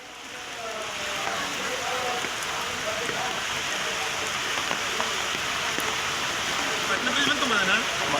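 Continuous hiss of heavy rain pouring onto surfaces in Uttara Kannada district, steady and moderately loud, with faint indistinct sounds underneath.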